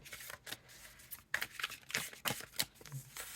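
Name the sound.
overhand shuffling of a tarot card deck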